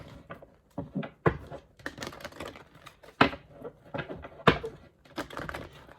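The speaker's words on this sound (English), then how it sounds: "don't know why I started to shuffle again." Tarot cards being shuffled by hand give off a close, irregular run of crisp riffling and slapping bursts, each a quick flurry, with no voices.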